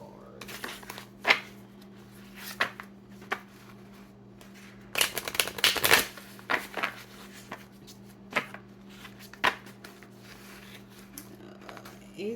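Tarot cards being shuffled and the deck split by hand, a series of soft riffling flutters and light taps close by, with one longer burst of shuffling in the middle over a steady low hum.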